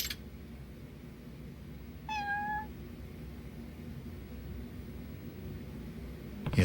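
A cat in the video game Lost Judgment gives a single clear meow midway through, standing alone over a quiet background hiss.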